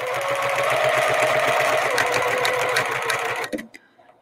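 A sewing machine runs steadily, stitching fabric for a mug rug, in one continuous loud whir for about three and a half seconds before stopping abruptly.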